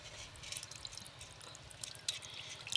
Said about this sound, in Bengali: এই যে ছাঁকুনি নিয়েছি, এবার ছেঁকে নেব।